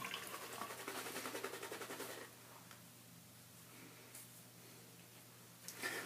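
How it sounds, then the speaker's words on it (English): Water running over a shaving soap puck as it is rinsed off, a faint splashing trickle for about two seconds, then near silence with a few soft handling clicks. "I'm just going to rinse off the puck and set this aside"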